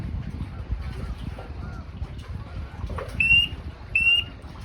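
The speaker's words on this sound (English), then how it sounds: "You'll hear the current setting chirps." A ShockIQ electric fence unit in boot mode gives two short, high electronic chirps about a second apart over steady low wind and outdoor background noise.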